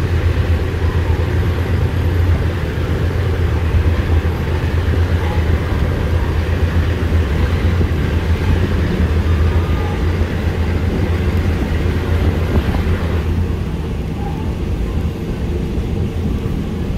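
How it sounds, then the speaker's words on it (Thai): Local diesel railcar train 427 on the line from Nakhon Ratchasima to Sikhoraphum, a loud continuous low engine drone and rolling rumble heard from on board, steady throughout with slight variation. "นั่งรถไฟปิดหน้าต่างนะครับ"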